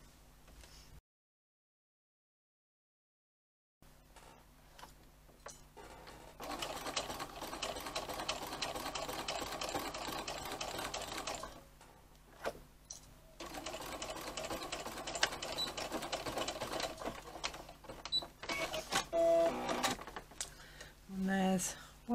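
Sewing machine stitching a teddy bear at a quarter-inch seam, running in long steady bursts with short pauses between, close and fairly loud.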